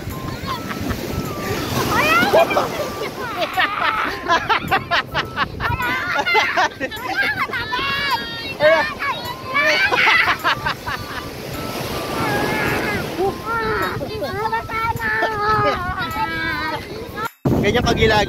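Sea waves washing onto a beach, a steady surf roar running continuously beneath people talking close to the microphone, with some wind buffeting.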